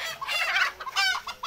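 Four-month-old free-range desi hens and roosters on a poultry farm cluck in quick, close, overlapping bursts with no talking.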